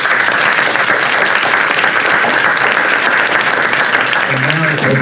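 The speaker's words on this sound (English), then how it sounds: "let's give the panel a round of applause" An audience at a cryptocurrency investing panel gives sustained, loud applause throughout, with a dense wash of clapping near the microphone and a voice briefly speaking near the end.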